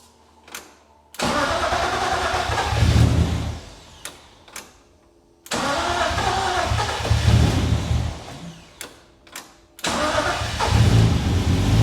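A BMW E36 Spec race car's fuel pumps are powered on through a jumper, giving a loud electric whirring hum that runs in three long bursts, separated by clicks and short pauses.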